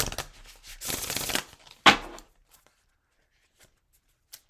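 Oracle cards being shuffled in quick papery riffles for about two seconds, close and fairly loud, followed by a sharp single snap and then near silence with a few faint taps.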